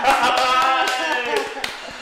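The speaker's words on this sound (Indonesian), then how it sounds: "beri tepuk tangan yang meriah" An audience applauds in welcome for someone speaker, a member of Indonesia's Bawaslu, with dense, steady clapping mixed with cheering voices throughout.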